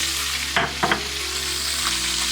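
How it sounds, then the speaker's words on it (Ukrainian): Rabbit meat frying in butter in a pan, giving a steady close sizzle with a couple of brief louder crackles and spatters partway through. "Побачимо, що у нас кролик почав шкварчати."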